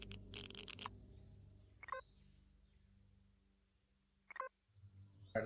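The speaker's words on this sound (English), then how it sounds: "I gotta get to a place where I'm not being chased by crickets," Giant insect creatures called crickets in the survival game Empyrion give off a steady, thin, high-pitched drone with a few short chirping bursts, heard alone with no talking.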